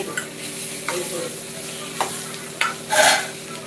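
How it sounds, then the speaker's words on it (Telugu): Green chillies, garlic and onion sizzle in hot oil as a spoon stirs them, with a few distinct scrapes against the pan and a louder crackling swell near the end. "ఈ పచ్చిమిర్చి తర్వాత వెల్లుల్లి ఉల్లిపాయ ఇవి కూడా మనకు ఆయిల్లో అయితే బాగా ఫ్రై అవ్వాలి"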